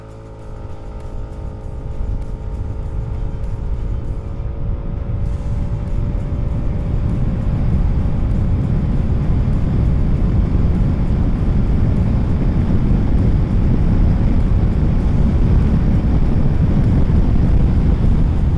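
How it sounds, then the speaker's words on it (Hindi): Hero Xoom 160 scooter with a 156 cc liquid-cooled engine on a full-speed acceleration run, engine note rising steadily under heavy, building wind roar for the whole stretch, with no talk. "एक फुल स्पीड एक्सेलरेशन रन करके देखते हैं किस स्पीड तक हम पहुंच पाते हैं"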